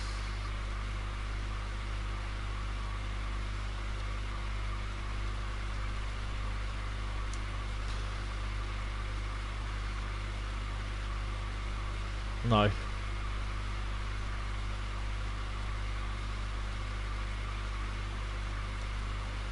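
Steady train running noise in Train Sim World, a continuous low droning rumble with constant hum that holds level throughout, with a single brief squeal-like sweep partway through and a short spoken word over it.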